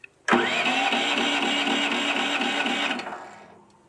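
Heavy machinery engine on an off-grid property catching without choke, with a sudden loud start into a steady mid-pitched running drone for about three seconds before it winds down and fades.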